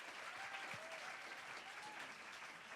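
Audience applause at a vocal workshop after a vocal ensemble's performance, a steady wash of clapping at moderate level throughout, with a faint voice briefly audible underneath.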